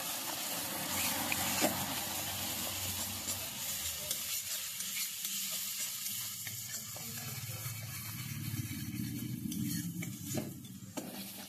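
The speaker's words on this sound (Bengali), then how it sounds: "অল্প একটু দিচ্ছি ঝাল লাল লঙ্কার গুঁড়ো। এবার এটা একটু কষিয়ে নিচ্ছি।" Red chili powder and turmeric masala sautés in a pan for a fish curry, a close, continuous sizzle with a spoon scraping and stirring through it, occasional light clinks of utensil against the pan.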